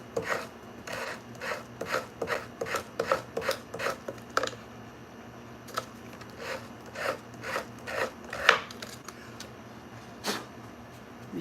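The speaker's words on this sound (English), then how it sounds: "let's sand this now, and then we'll paint it" Hand sanding at an angle across an angled wooden cross from a thrift store, a series of close, rhythmic rasping strokes that pause briefly midway and then resume more sparsely.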